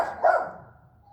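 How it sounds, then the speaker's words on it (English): A single dog bark rings out close by in an indoor home setting, one short sharp burst that fades into a quiet room tone. "I need Dash to not bark while I'm filming a video"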